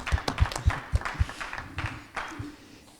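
A small audience gives sparse, uneven applause at an evening talk, a few distinct hand claps and thumps near the start that thin out and fade, with quiet room noise behind.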